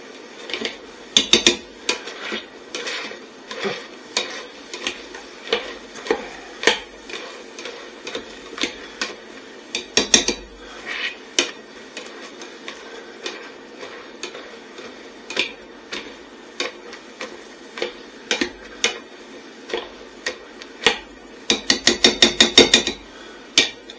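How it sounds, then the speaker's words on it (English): A potato masher working cream of mushroom soup in a pot, heard as a long run of close, loud metallic knocks and clanks at an uneven steady rhythm, speeding into a rapid flurry near the end. "So once again, my year one potato masher to the rescue."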